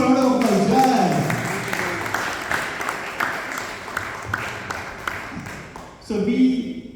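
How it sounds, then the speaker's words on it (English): A small audience at a Bhagavad Gita talk offers scattered, modest clapping under and between voices, with a brief louder burst near the end. "Please give a round of applause."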